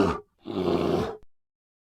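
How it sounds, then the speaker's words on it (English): A bear gives a short grunt followed by a longer, deep guttural roar, close and loud, with a brief huff at the end. "Bear."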